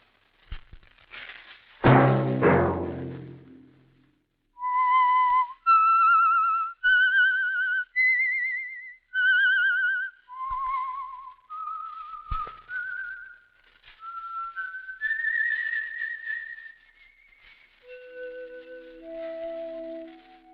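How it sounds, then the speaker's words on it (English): A lone whistler carries the melodic theme tune of The Whistler radio program, a clear, near tune of sustained, sliding notes that rises and falls after a brief opening sound, with no talk. "Let that whistle be your signal for the Signal Oil program, The Whistler"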